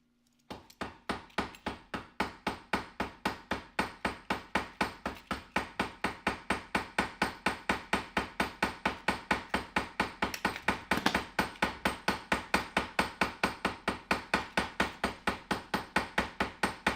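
Steady, rapid hammer blows on metal in a blacksmith-style workshop while gorgets are being made, each strike sharp and ringing, continuing evenly for the whole stretch with no talk.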